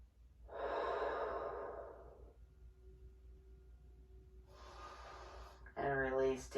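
A person breathing during a stretching exercise: a long, audible exhale near the start, a quieter breath later, then a brief voiced sound at the end, all soft and close.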